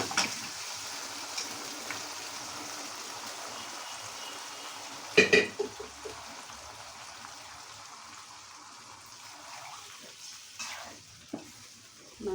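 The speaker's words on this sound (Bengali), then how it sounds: "এখন মাংসগুলোকে দিয়ে দেব।" Meat goes into a hot pan and fries with a soft, steady sizzle, broken by a sharp clatter of pot and spatula partway through and a few lighter scrapes near the end, no voices.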